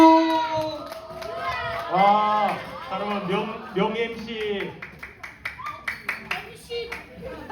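A youth group at a church service claps for a leader coming up to run folk games, with scattered, uneven hand claps growing into quicker taps near the end while an MC speaks loudly over much of it.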